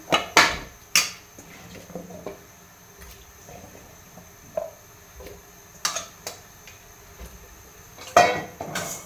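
Potatoes for a sweet walnut tajine drop into a cooking pot with several sharp clattering knocks and splashes spread across the clip, fairly close, amid faint kitchen rustling and no talk.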